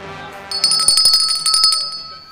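A small café bell shaken repeatedly at close range, bright jangling rings in a quick burst lasting under two seconds, then fading out.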